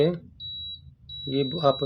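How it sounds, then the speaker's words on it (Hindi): A steady high-pitched electronic buzzer tone from a door air curtain sensor sounds in two stretches, with someone talking before and over it. "ये आपको बज़र की आवाज़ आ रही है।"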